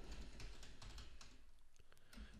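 Quick, steady typing on a computer keyboard while writing code for an Android app, close and crisp key clicks in an even rapid rhythm with no talking.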